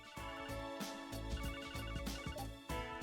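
A telephone rings in The Legend of Heroes: Trails to Azure, a loud repeating electronic ring pattern pulsing over game music for about three seconds.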